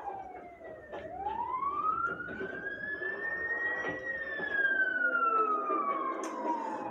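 Emergency sirens in the video game Dying Light 2 wail with a rising and falling tone, moderately distant and steady, with no talk over them.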